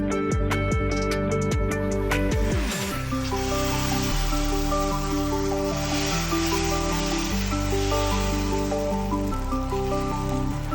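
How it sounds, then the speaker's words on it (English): Liquid sweet potato and ragi batter meets a hot dosa tawa greased with onion, giving a continuous soft sizzling hiss and wet spreading sounds under steady background music. "Once tawa is hot, pour the liquid batter and spread it evenly."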